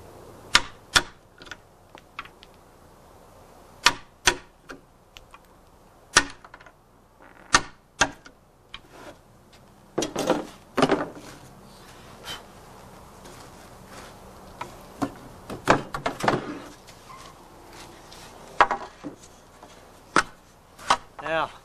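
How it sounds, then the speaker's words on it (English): A chisel strikes and cuts into wood while fitting an exterior door: sharp, irregular taps and knocks, some in quick clusters and others spaced apart, close and fairly crisp, with brief scraping between blows. "And then you get your chisel."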